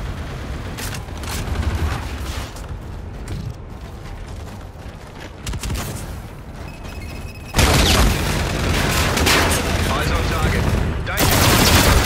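Gunfire in the video game Call of Duty: Infinite Warfare: bursts of rapid shots and booms that grow louder and denser partway through, with voices speaking over the combat.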